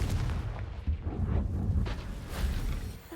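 Confringo blasting spell cast in Hogwarts Legacy, a burst of booming, crackling explosions rolling through the clip with deep rumbles and a whooshing blast, heard alone without talk.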